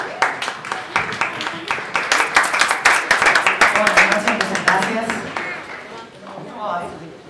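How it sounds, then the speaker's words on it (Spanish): Audience applause for a singer being introduced on stage in Mar del Plata, steady clapping from a crowd that swells and then fades over several seconds, with a voice speaking over it. "Fuerte el aplauso."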